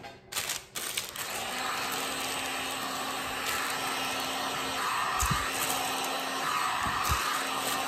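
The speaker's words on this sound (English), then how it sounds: "Get your heat gun." A heat gun blows a steady, loud rush of hot air across shrink-wrapped avocado detox facial soap bars, a continuous hiss lasting nearly the whole stretch with a few soft handling knocks.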